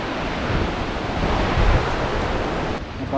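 Mountain stream water rushes steadily on a hillside trail near Kareri village, a continuous broad hiss that stays loud and even throughout with no voices.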